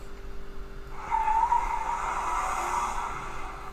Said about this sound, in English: Oh, I can hear a car, okay?